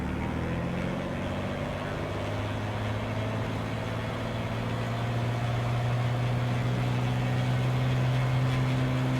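Aeroelvira Optica aircraft engine in Microsoft Flight Simulator 2024 running up to 1700 RPM, a steady droning hum with a strong low tone that rises slightly in pitch and holds, loud and continuous.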